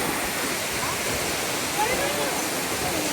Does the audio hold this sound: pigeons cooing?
no